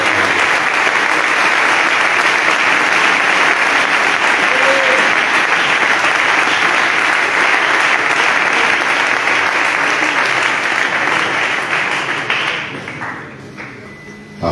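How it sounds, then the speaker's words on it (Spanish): A large church congregation applauds loudly and continuously for over twelve seconds in worship at a youth convention, then the clapping fades down near the end. "A ver cómo suena ese aplauso de adoración al Dios"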